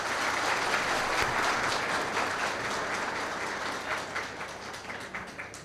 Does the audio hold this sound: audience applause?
yes